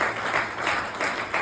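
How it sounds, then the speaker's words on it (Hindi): A seminar crowd in Kanpur breaks into loud, rhythmic applause, a dense burst of clapping that pulses in waves for just over a second. "एक बार उसके लिए भी जोरदार ताली।"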